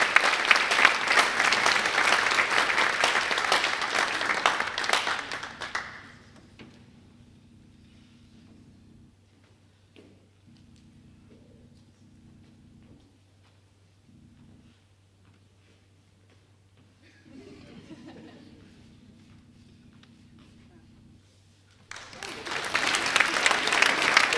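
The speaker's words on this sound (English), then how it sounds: "Let's have a round of applause for the women's basketball seniors." Applause at a collegiate athletic honors and awards ceremony, a full room clapping loudly for several seconds, then fading to near quiet with faint ticking and a low hum before another strong burst of clapping rises at the end.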